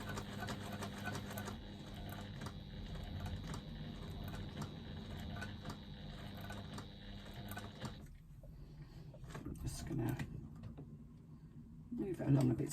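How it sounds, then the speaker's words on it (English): A sewing machine stitches through felt and faux leather, a steady close mechanical whirr for about eight seconds, then stops, with a few quieter handling sounds and a light thump near the end. "And one stitch backwards at the beginning,"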